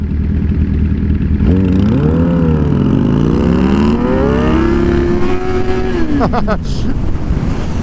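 A Harley-Davidson motorcycle engine revs while riding, its loud droning pitch sweeping up and down through gear changes, with heavy wind buffeting close to the microphone.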